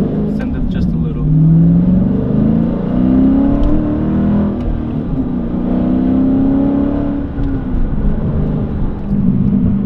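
A Dodge Challenger accelerates hard on a road, its engine a loud sustained roar heard from inside the car, rising in pitch and holding strong for several seconds.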